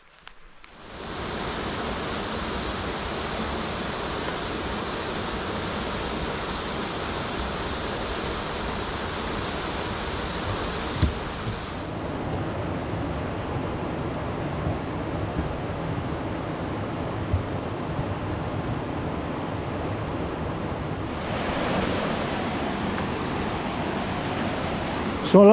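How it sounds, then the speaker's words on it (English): A river waterfall at Hethpool roars as a constant broad rush of water, loud and close, with the tone shifting slightly as the microphone moves. "I don't know if you can hear it above the sound of the water"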